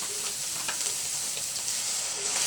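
Coconut milk sizzling and bubbling in a pan with onion and red bird's eye chili for tofu, a dense steady frying hiss up close with faint stirring.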